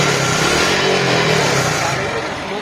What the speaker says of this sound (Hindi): इंजन में बहुत ही ज़्यादा आवाज़ है